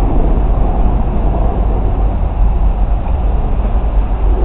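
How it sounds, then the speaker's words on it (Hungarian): An express train from Záhony rolls into Kőbánya-Kispest station, a loud, steady low rumble and rolling roar close at hand with no distinct horn or announcement audible. "Sebes vonat érkezik Záhonyból az 5. vágányra."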